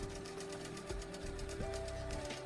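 A Handi Quilter quilting machine stitches through pinned fabric with a steady, rapid mechanical whir and a sustained motor hum, close and continuous, with a slight pitch shift partway through and no talk.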